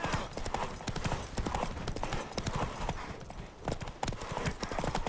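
Hooves pound rapidly in a continuous galloping rhythm, dense and loud, with a faint whinny mixed in, from the video game The Witcher 3: Wild Hunt.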